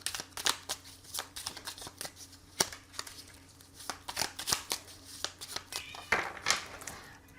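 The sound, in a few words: shuffling tarot cards for a reading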